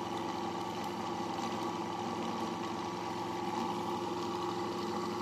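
A homemade axial flux BLDC motor built using a transformer runs at steady speed, giving a continuous close whine and hum with a faint rattling buzz, unchanging throughout.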